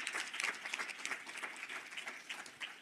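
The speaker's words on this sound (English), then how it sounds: "Let's give a round of applause for our panel." Applause for a conference panel, a dense patter of many hands clapping at fairly low level, continuous for a few seconds with no talk over it.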